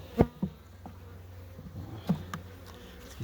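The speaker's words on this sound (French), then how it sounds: "Donc ça c'est encore un tout petit essaim, mais quand ça va démarrer, ça va aller vite." A small artificial swarm of honeybees buzzes faintly near a beehive. A few louder individual bees pass close by, and the surroundings are otherwise quiet.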